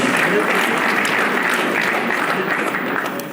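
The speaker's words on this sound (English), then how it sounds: "please can we also salute the field marshal, Mrs. Yakubu Gowon, CFR, with a round of applause" A formal gathering's audience gives a round of applause, a loud, even wash of clapping that holds steady and eases off slightly at the end.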